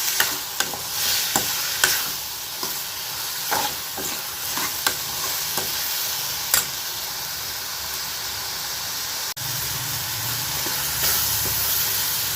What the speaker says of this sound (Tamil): தக்காளியும் ஓரளவுக்கு குழஞ்சி வதங்கி வந்துருச்சு பாருங்கள்